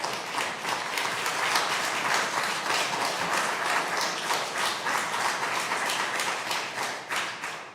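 An audience applauding at a congressional hearing on veterans' affairs, a dense, sustained wash of many hands clapping that holds steady and tapers slightly at the end.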